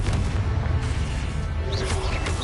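A Confringo blast spell in Hogwarts Legacy goes off with deep rumbling booms and crackling bursts, loud and dense, with whooshing magical effects layered over the low explosion noise.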